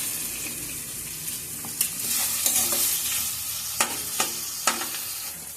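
Onion pieces frying in hot oil for a potato curry while a spoon stirs them, a loud steady sizzle broken by several sharp scraping clacks of the utensil against the pan, close up and without talk.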